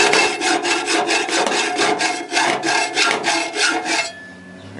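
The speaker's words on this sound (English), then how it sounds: "Just continue cutting it with a hacksaw into two 18-inch pieces" A hacksaw cuts through a steel garage door torsion spring in a close, steady back-and-forth rasp of about ten strokes, then stops.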